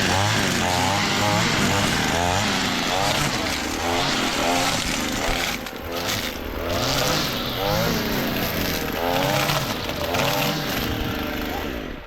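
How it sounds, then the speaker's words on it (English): An old, hard-starting weed whacker running outdoors, its small two-stroke engine giving a loud, continuous buzzing drone that surges and dips throughout, with voices talking over it. "The weed whacker kind of old, so you pull it a lot for it to start"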